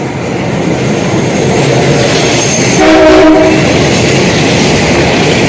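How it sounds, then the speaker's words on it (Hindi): A train on a single track in Thailand rumbles past loud and close in a continuous roar, with a short horn blast sounding about midway. "ये देखो आपको हॉर्न सुनाई दे रहा होगा ट्रेन का।"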